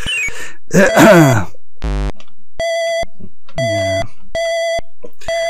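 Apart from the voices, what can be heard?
beeping in video game Siege (Mindcraft 1992)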